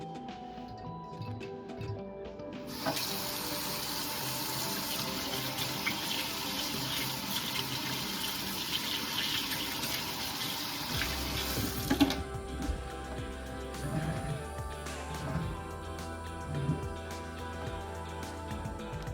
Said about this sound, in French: Avant de débuter une recette, il est très important de laver tes mains.